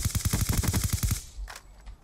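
Rapid automatic gunfire in Call of Duty: Black Ops 2 rattles off about ten loud, close shots in just over a second, then stops, followed by a faint thud.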